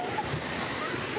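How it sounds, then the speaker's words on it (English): Tsunami waves hitting the coast of Tonga make a steady, loud broadband roar of surging water with wind buffeting the microphone, continuous throughout the brief moment. "Tongans are on the beach to film the first waves hit the coast."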